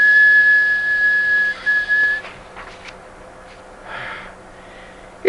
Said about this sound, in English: the tea kettle whistled.